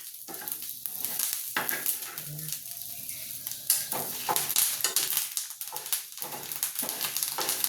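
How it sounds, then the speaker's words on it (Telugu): Urad dal frying in a pan until reddish, with steady broadband sizzle and repeated scraping, stirring knocks against the pan at close range, no talk. "మినపప్పు ఎర్రగా వేయాలి."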